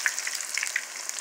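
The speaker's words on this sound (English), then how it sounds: "So I'm actually frying it too hot." Battered meat fries hot in a greasy skillet, a steady crackle of bright sizzling pops close up with no voices.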